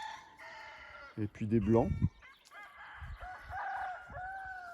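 Chickens and roosters on a farm cluck and crow nearby, with one loud rooster crow in the middle and softer clucking around it, while someone speaks French quietly over them.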